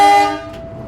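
A train horn sounds as the Serayu train departs Nagreg station: a single loud, rich tonal blast that fades over under a second into low rumble.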